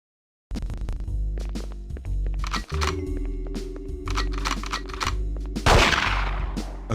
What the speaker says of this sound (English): loud invisible gun again